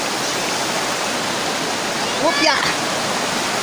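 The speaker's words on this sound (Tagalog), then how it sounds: "Yan, tingnan nyo kung gaano kaganda ang ilog." River flowing outdoors, a loud continuous rushing of water like a stream over rocks, with a brief spoken word partway through.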